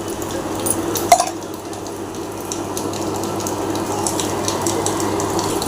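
Coriander seed tea simmering in a pot on the stove makes a soft, steady bubbling hiss throughout, with a single light clink near the start and no talking.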